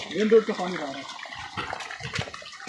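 Rainwater rushes and splashes out of a blocked main-road drain beside a house during heavy rain, a close, churning flow that continues under overlapping talk.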